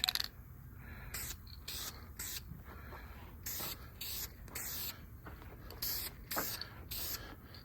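Short bursts of spray paint hiss from an aerosol can while coating a 1967 Pontiac Grand Prix intake manifold, about a dozen brief close sprays separated by short gaps over a low background hum.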